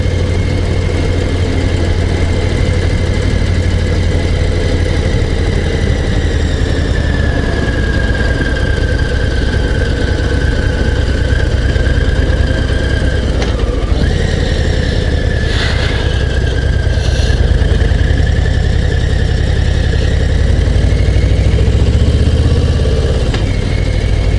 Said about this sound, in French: Ouais, c'est aussi un moteur long course.